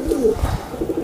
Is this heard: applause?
no